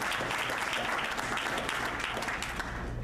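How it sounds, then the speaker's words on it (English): Steady, dense applause from an audience at a public opening, honouring a chief probation officer, fills the room without pause, a close continuous patter of many hands. "Give Carmen a real round of applause."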